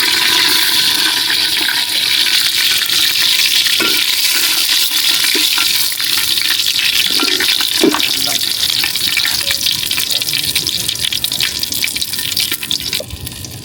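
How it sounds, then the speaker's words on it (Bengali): Cardamom, cumin, bay leaves and broken dried red chillies sizzle loudly in hot white oil, a dense, steady hiss close by with occasional pops and stirring clatter. "সাদা তেল, আর এইবার দিয়ে দেব এলাচ, জিরে এবং তেজপাতা, এবং সাথে গোটা কাটা শুকনো লঙ্কা"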